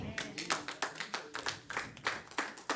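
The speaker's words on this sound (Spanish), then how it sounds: "Eso merece un aplauso." A small group claps at a church sermon, sparse uneven handclaps in loose rhythm rather than a full ovation, fairly close and moderately loud, fading between bursts.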